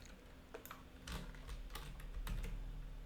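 Fingers type MySQL commands on a computer keyboard, quiet irregular key clicks with a few sharper presses, close and faint against a low steady hum, with no talk.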